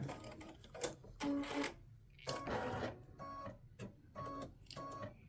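An embroidery machine stitches a Thanksgiving turkey running-back block design in bursts of rapid mechanical clatter, several runs separated by short pauses, moderately close with no talk.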